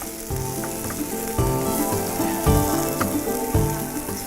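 Onions fry quickly in a hot pan, a steady close sizzle running throughout with occasional stirring scrapes and bumps breaking through.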